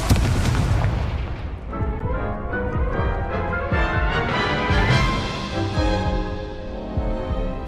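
An Incendio fire spell cast in Hogwarts Legacy, a loud booming burst that flares and rolls into a sustained roaring, crackling blaze lasting several seconds, close and dense.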